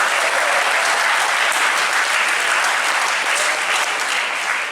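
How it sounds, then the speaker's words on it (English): Loud, sustained applause from a crowd at a high school athletic awards event, honoring a state championship basketball team; dense and continuous for several seconds without speech. "give them a round of applause"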